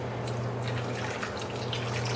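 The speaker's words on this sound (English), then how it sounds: "you can go ahead and add some water to it" Water poured into a chile colorado sauce for red enchiladas, a steady running, trickling flow over a constant low hum, close and even throughout.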